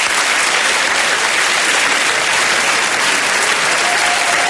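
Sustained loud applause from a large audience honoring debate finalists, dense and steady throughout without pause.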